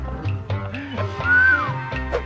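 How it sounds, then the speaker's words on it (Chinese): A person whistles a short rising-and-falling note over a soft background of voices and room sound, alongside a few brief murmurs. "他现在开始经常对我就是吹口哨"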